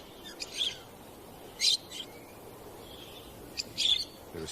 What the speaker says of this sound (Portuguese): Periquitos se abrigam na sombra das rochas